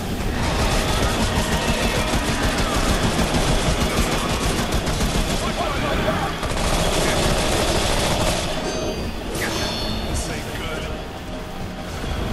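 Sustained rapid gunfire from the video game Remnant: From the Ashes on hard mode, dense automatic bursts running almost continuously, with voices talking over it.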